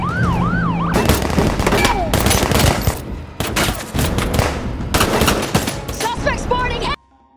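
Gunfire in a film shootout between a SWAT team and professional robbers, with dense loud volleys mixed with wailing sirens and chaotic action noise, cutting off abruptly near the end.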